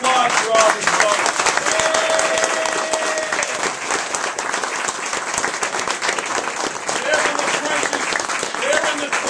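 Audience at a political party celebration applauding state representatives, a loud, dense wave of clapping with scattered cheers and voices mixed in, holding steady for about nine seconds.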